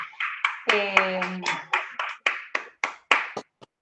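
One person claps about a dozen times at a steady rhythm, close and distinct, applauding on behalf of a remote audience after a talk, with a brief vocal sound near the start.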